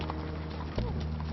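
Horse hooves clip-clop at a steady pace as riders, most of them novices, travel on well-trained horses in the Andes, with talk running over the footfalls and a low hum underneath.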